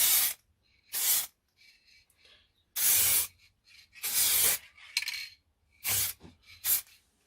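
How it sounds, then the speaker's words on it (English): An aerosol can sprays paint onto a car door mirror cover in several short, sharp hissing bursts separated by brief pauses, close to the microphone. "That's got quite a wide spray pattern on that nozzle."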